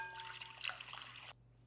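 Water pours into a mixing bowl for sourdough dough, a soft trickling splash for about a second over a faint room hum, then stops abruptly.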